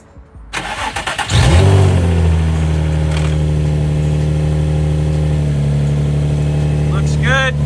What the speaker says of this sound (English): Now we just gotta start the car.